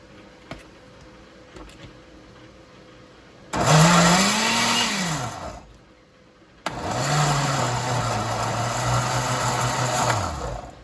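Tomatoes for a high-protein vegan stew whirring in a blender in two bursts, a short one then a longer steady run, the motor whine dipping as the chunky mixture catches, with a quiet pause between.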